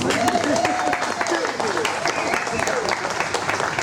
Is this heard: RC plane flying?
no